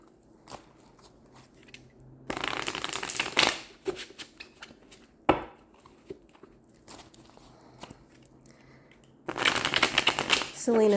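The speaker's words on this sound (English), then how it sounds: "So I'm going to continue shuffling until I'm told to stop." Cards are shuffled in quick riffling bursts, separated by quieter gaps with light handling sounds.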